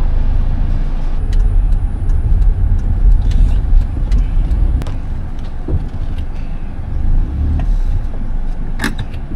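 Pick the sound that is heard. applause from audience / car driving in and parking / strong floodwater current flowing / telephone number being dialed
car driving in and parking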